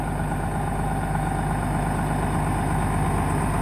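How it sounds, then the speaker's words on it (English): Steady, loud idle of a 2011 Freightliner M2 knuckleboom crane truck while the boom swings around, a constant low droning rumble with no breaks, heard close up. "You can see Robert is spinning that boom around."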